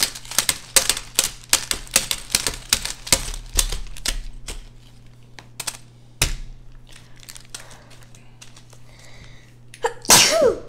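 Rapid clacking of typewriter keys fills the first seconds, then a loud, sharp sneeze bursts out near the end.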